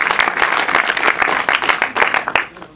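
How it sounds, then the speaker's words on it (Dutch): An audience at an art and media award ceremony claps, a close, fairly loud burst of individual hand claps that stays fairly even before thinning out near the end, with no talk. "Daar zijn we misschien een klein applaus voor."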